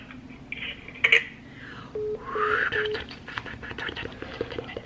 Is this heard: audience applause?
no